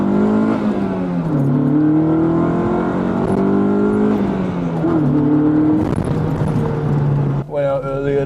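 A Honda Integra engine drones loudly and continuously with a humming, airplane-like whine. Its pitch rises and falls as the revs change, and the sound cuts off sharply near the end.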